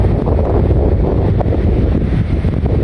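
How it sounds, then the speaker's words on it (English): Strong wind on a beach beside the port at Imbituba buffets the microphone with a loud, continuous roar throughout, and no voices are heard. "It's not cold, but it's very, very windy."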